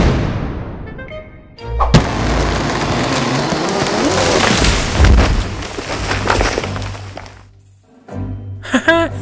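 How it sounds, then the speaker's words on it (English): A loud, deep boom bursts out and rumbles on for several seconds like a cannon shot, followed by a brief quiet and a few clanking knocks. "Fire the cannon!"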